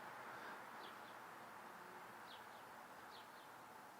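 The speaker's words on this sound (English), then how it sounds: "Well, it's really quiet. You can hear the birds." In a very quiet outdoor setting, songbirds give a few faint, distant chirps in short clusters over a soft, steady background hush.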